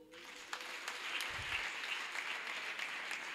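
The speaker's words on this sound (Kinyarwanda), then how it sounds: "dukomere Imana amashyi" A church congregation claps together in praise of God, a steady, dense wash of applause that runs throughout, with a brief low thump partway through.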